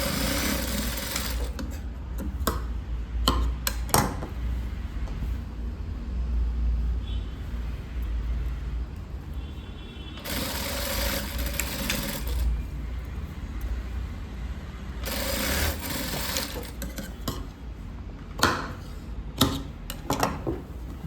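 A sewing machine stitches the shoulder seam of a blouse in bursts of fast, steady mechanical whirring, close and loud, with short pauses and small handling clatters between runs.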